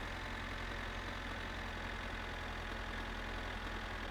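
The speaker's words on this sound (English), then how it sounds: "I can't hear it over the noise of the tractor" A tractor engine idles in the My Summer Car video game, a steady, continuous low rumble holding at an even level throughout with no talk over it.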